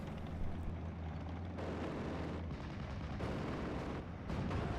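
Off-map artillery fire in the wartime strategy game Steel Division: Normandy 44, a dense, low rumbling barrage of overlapping booms and blasts that keeps rolling throughout, fairly faint with no one speaking.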